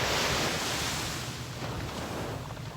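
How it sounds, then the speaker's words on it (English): Ocean surf washing in steadily beside an outdoor spot with a sea view, a broad continuous wash of waves with some wind noise across the microphone and no talking. "The waves sound lovely."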